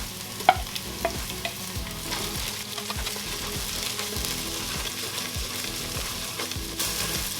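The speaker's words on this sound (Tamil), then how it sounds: "இந்த இஞ்சி பூண்டு பேஸ்ட்டோட ரா ஸ்மெல் போகிற வரைக்கும் லைட்டாக வதக்கிக்கோங்க" Ginger garlic paste and green chilies sautéing with cooked onions in a pan for crab biryani, a steady soft sizzle broken by repeated scraping stirs, moderately close and without talk.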